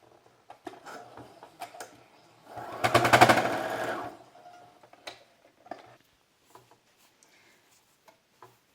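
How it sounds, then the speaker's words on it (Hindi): A sewing machine runs in one short burst of rapid stitching, closing the open gap on a baby knicker, surrounded by scattered clicks and taps of handling in an otherwise quiet room. "जो जगह हमने खुली छोड़ी थी उससे फिर से सिलाई कर देंगे।"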